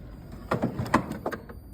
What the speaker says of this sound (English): we'll insert the garage door opener into the drawer system and close the door